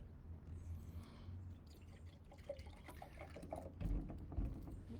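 Liquid, a bright green drink, trickles and splashes as it fills a glass, soft close pouring with a few gurgles and drips at low volume.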